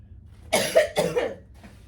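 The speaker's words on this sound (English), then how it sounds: "I got a cough." A person gives two quick, harsh coughs close to the microphone, followed by a faint exhale, in a quiet indoor recording.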